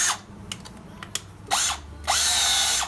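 Power drill boring into a gearbox casing to prepare a thread for a helicoil insert, with light clicks followed by two loud, close whining drill bursts, the second one longer and sustained.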